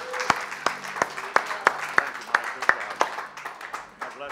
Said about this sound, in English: Give Him a big hand clap this morning.